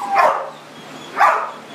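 A dog in a shelter kennel gives two separate barks, spaced about a second apart, close and fairly loud against a quiet background.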